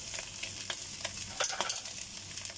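Leftover cooked rice sizzles in a hot pan under steady stirring, a continuous close frying hiss with soft scraping strokes and no voices.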